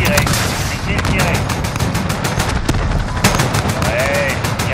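A 30 mm cannon in the Call of Duty Modern Warfare video game fires a rapid, loud, sustained stream of heavy rounds, with a short gap before the burst resumes and radio chatter mixed beneath it.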